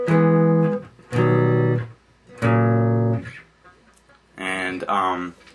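Guitar chords from a song, second pass, played solo and close: three ringing chord strikes with short gaps, then a brighter, busier fourth chord.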